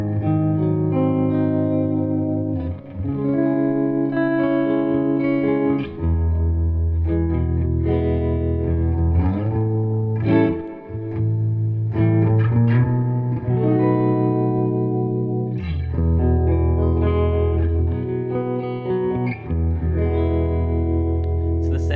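Electric guitar chords from a Gretsch guitar played through a Fender '68 Custom Deluxe Reverb amp with tremolo on, giving sustained, pulsing chords with reverb, loud and continuous.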